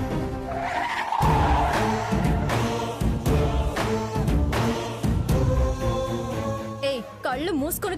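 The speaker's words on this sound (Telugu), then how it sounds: "కళ્ళు మూసుకొని కారు నడుపుతున్నావా?" A car's tires skid and screech as it swerves sharply on the road, a loud sustained squeal with engine noise running through the whole stretch, ending in a wavering final screech.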